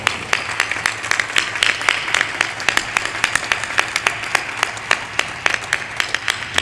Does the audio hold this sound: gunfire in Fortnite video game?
no